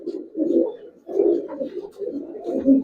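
Old-breed Giribaz pigeons coo in low, rolling phrases, close by and fairly loud, repeating in steady waves with brief pauses between bursts.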